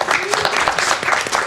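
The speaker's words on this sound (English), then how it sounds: "Clap for the map." A small group of people clap together for a few seconds during a live Super Metroid speedrun race broadcast, a steady burst of overlapping handclaps with voices chattering underneath.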